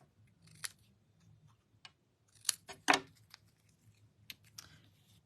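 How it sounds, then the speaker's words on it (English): Scissors snip a paper strip during a card-making project with Stampin' Up! Fancy Flora paper, a few quiet, sharp cuts and rustles scattered over several seconds in a hushed room. "if it's too long, just cut it off"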